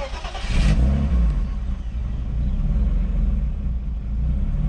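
BMW 325i Coupé E36 engine cranks and catches, then settles into a loud, rumbling idle with slight unevenness and a few revs, close by and with no voices.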